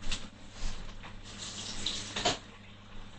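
Cold tap water runs into a cooking pot in a home kitchen, a close, steady splashing stream that swells and fades slightly over a few seconds.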